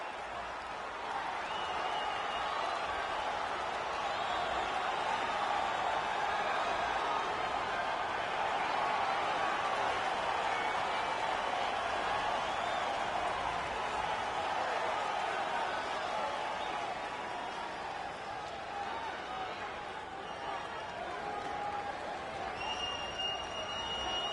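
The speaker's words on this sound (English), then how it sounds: "the crowd pops as this guy makes the walk to the octagon" An arena crowd in the UFC 3 mixed martial arts video game cheers and applauds as a fighter walks out to the octagon, a dense, sustained roar of clapping and shouting lasting the whole stretch.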